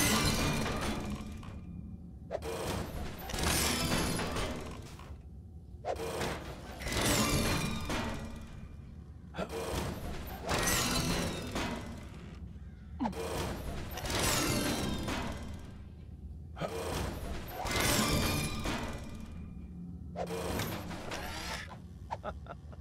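A building machine in LEGO Worlds being fed with bricks, giving loud, clattering, crunching bursts that repeat in a steady rhythm about six times, separated by short quieter gaps.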